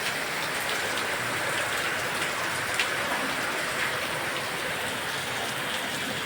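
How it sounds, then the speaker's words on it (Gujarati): Heavy monsoon rain pours down in a steady, dense hiss of drops hitting surfaces, loud and unbroken, with no voices. "હવે જોરદારમાં જોરદાર વરસાદ વરસે છે."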